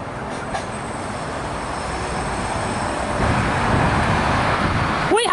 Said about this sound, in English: We have a Penrith via Parramatta service arriving on platform number 1.